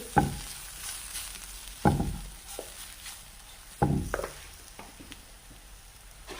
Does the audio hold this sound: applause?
no